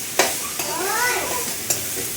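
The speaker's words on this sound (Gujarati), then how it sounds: "ચાલો ખમણ વઘરાય છે" Khaman being tempered in a hot pan gives a soft sizzle, broken by a few sharp spatula taps and scrapes, with a brief tonal squeal in the middle.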